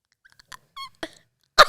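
Dogs making noise indoors during a podcast recording: a few short close yelps and whines, then a louder bark-like burst at the end, with quiet gaps between.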